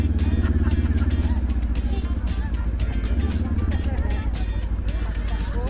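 A motorcycle engine idles and revs steadily up close during a children's day group ride near Temuco, Chile, with a child aboard as a passenger. The engine drones continuously under people talking nearby.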